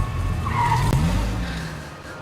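A car in a video game skids with a sharp tire squeal over a roaring engine, one brief screech that fades as the motor winds down.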